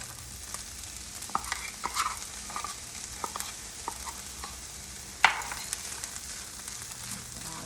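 Peppers fry in a pan with a steady, moderate sizzle, broken by occasional sharp clicks and scrapes of stirring, one louder knock near the end.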